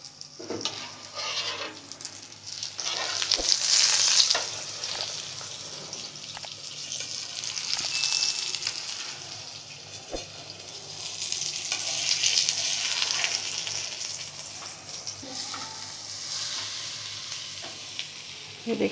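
Cheese aloo paratha cooking on a griddle with ghee, a steady close sizzle that rises and falls in swells, with a few sharp clicks and scrapes from handling and no talking.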